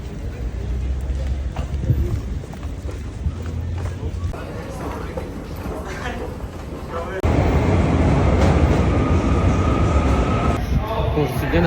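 Naples metro train: a loud, continuous rumble of a subway car in motion, heard from inside, swells noticeably partway through as the running noise grows harsher, with indistinct voices mixed into the din.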